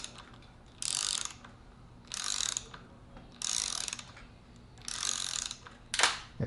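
A torque wrench tightens bolts on a Rockshox Pike mountain bike fork to 65 inch-pounds. Four bursts of close, rapid ratchet clicking are separated by pauses, then a sharp click ends the sequence.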